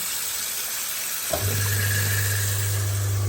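An InSinkErator Evolution 200 kitchen waste disposer starts up under running tap water and grinds mushy cauliflower with a steady, loud motor hum.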